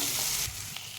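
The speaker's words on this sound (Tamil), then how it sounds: "வெங்காயம் நல்லா வதங்கி வந்துட்டுருக்கு" Onions, four dried red chillies and a chopped tomato frying for onion chutney, a brief close sizzle that drops a little partway through with a light stirring scrape.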